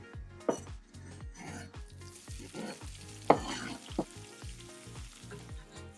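Two slivered onions frying in a potjie pot for a lamb rib dish, a continuous sizzle broken by repeated scraping stirs and a few sharp metallic knocks of utensil on pot.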